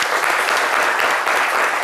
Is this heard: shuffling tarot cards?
no